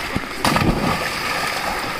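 A body plunges into a village well pool, throwing up one loud splash followed by a sustained wash of churning, sloshing water.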